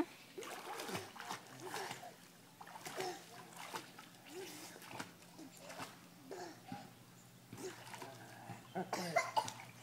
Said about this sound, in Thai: โอ้ยสำลักน้ำ